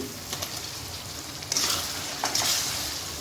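Tomato goes into masala frying in a pan, giving a low steady sizzle with light scraping stirs that swell into two louder bursts of hissing as the pieces hit the hot oil.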